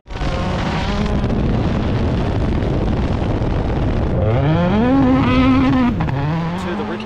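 A rally car on a forest rallysprint stage at Ashley Forest, slid sideways on Kumho tyres toward the finish line, its engine roaring loud and close, pitch climbing and falling through gear changes as it passes.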